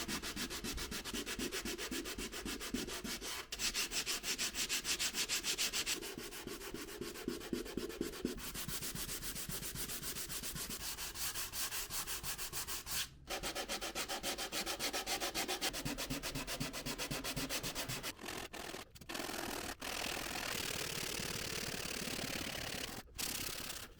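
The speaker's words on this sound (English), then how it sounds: "I need to be very careful not to sand through." Steady rhythmic sanding strokes rubbing across a thin wooden top layer of a double-top archtop guitar, close and continuous for the whole stretch, with a few brief pauses and no talk.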